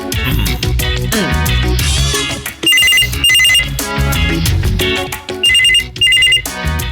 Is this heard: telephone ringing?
yes